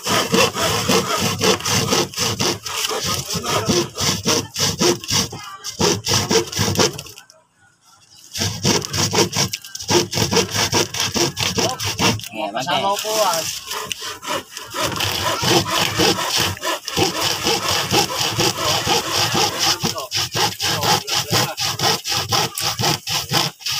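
Continuous rhythmic rasping of a blunt hand saw cutting wood, rough and grinding strokes with a short pause midway before sawing resumes.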